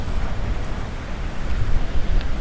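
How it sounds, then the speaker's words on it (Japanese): Rough typhoon surf and strong wind at Prince Beach on Tokunoshima, a loud, continuous roar of crashing waves with wind buffeting the microphone, rising in surges toward the end. "めちゃしけてますね"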